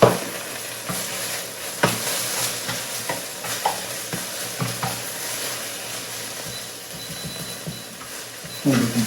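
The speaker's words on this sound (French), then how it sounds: "Je prends la deuxième spatule pour fouiller mon fenouil." A metal spatula stirs fennel frying on an outdoor plancha, giving a continuous sizzle broken by repeated scraping and tapping strokes, close and steady throughout.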